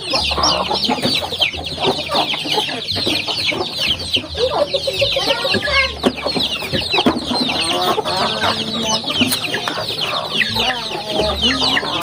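A flock of chickens clucks and chatters continuously while being fed, a dense, busy mix of close and nearby calls with no pauses.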